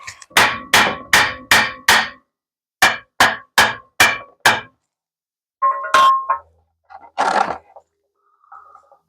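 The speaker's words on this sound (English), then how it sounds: "with a hammer and a flathead, we should be able to get this thing pop free" A hammer drives a flathead screwdriver to pry a stuck part loose, giving loud ringing metallic strikes in two quick runs of five, then a few scattered scrapes and clanks, close by.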